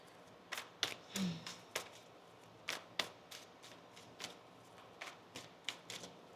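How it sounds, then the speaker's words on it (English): Tarot cards being shuffled by hand, a series of quiet, crisp riffling snaps and flicks repeating in an irregular rhythm, close and soft, with no talking. "One more shuffle here"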